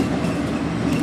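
Washington Metro Orange Line railcar running near East Falls Church, with a loud, continuous rumble of wheels on track and a steady rhythmic clatter heard from inside the car.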